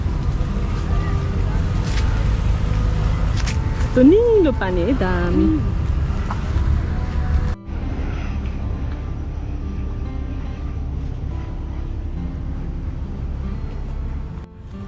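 Boats move around Hulhumale harbour in the Maldives, a low, steady engine-and-water rumble mixed with wind buffeting the microphone, while a person talks over it.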